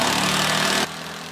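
An impact driver driving a screw into a hollow wall buzzes loudly with a rapid hammering drone for under a second, then cuts off, leaving a quieter hum.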